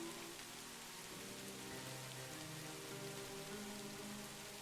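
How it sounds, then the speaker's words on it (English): Steady rain pattering on leaves in a forest, a dense even hiss of drops with a faint tonal hum underneath, continuous and moderately close throughout. "the sound of the raindrops falling on the leaves is so soothing"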